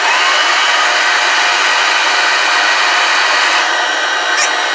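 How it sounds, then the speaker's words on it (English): Metal lathe taking a light scratch cut on 7/8-14 axle threads, heard as a loud, steady broadband hiss and whir of the machine with a faint squeak near the end, close and without talk. "So we're going to do a scratch cut here and see what we get."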